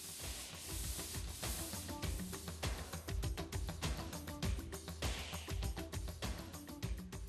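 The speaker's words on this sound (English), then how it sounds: "Sand the joint tapered area to prepare it for painting." Joint compound on a cyclorama wall's tapered sheetrock joints is sanded by hand before painting. Quick, rhythmic scratchy rubbing strokes repeat steadily throughout, fairly close and moderately quiet.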